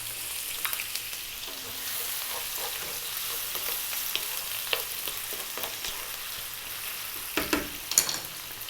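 Onion and potato frying in hot oil over fairly high heat, a continuous close sizzle with scattered spatters and a few louder stirring scrapes toward the end.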